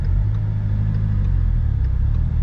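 Ford Mustang EcoBoost with a 6-speed manual pulling away from a stop, a steady low engine rumble with a mild rise in revs, close and continuous with no talk.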